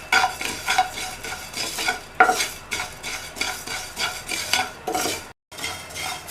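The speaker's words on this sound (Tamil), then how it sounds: "இதையும் இதில் சேர்த்துட்டு நல்லா சூடு ஏறுற வரையும் வறுத்துக்கணும்." About 80 grams of cumin seeds are dry-roasted in a pan while being stirred. Rhythmic scraping and rattling strokes repeat up close, with a faint sizzle and one brief break near the end.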